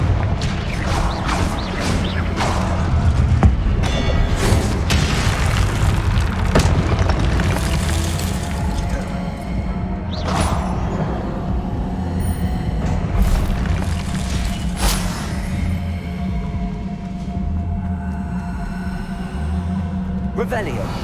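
Confringo blasting spells explode in the video game Hogwarts Legacy as repeated booming blasts and crashes over continuous game effects and music, loud and dense throughout.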